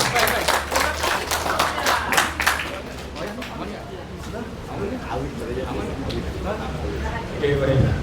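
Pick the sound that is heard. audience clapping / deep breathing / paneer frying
audience clapping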